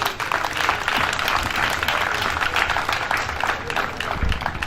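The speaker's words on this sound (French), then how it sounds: "Merci, on applaudit très fort." Crowd applauding at an inauguration ceremony in Port-Bouët, Côte d'Ivoire: dense, steady clapping fills the whole stretch at moderate loudness, with no voices over it.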